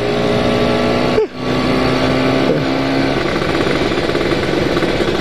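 A Kawasaki Ninja motorcycle engine runs steadily while riding, a loud, close mechanical drone with a brief dip and a gear-change-like blip, no voices.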